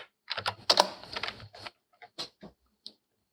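Keys clatter on a computer keyboard in a short irregular burst of close, crisp taps, ending with a few isolated presses.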